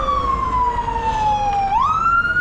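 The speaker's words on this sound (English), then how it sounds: "I hear sirens." Nearby emergency vehicle siren wails alone, its tone sliding steadily downward and then sweeping back up in a single clear cycle.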